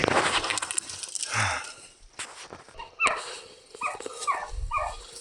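Hunting dogs out on a bird hunt in frigid weather give a few scattered barks, yips and whimpers at moderate distance, mixed with rustling and footsteps, with no talking.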